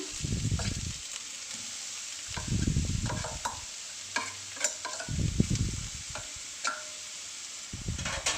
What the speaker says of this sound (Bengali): এর মধ্যে যে গাজরটাকে আমি গ্রেট করে রেখেছিলাম সেই গাজরটা আমি দিয়ে দেব